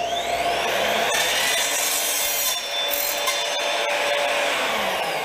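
An Evolution R255-SMS miter saw slices through copper with a loud, sustained high whine and grinding rasp up close, keeping an even level for several seconds with no talking.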